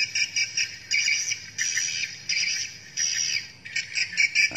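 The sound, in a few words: recorded bird mating call, PJW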